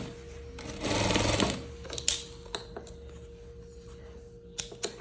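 Sewing machine stitching the side seam of a leopard-print dress, a close, brief, rapid mechanical whirr of about a second, followed by quiet clicks and handling taps.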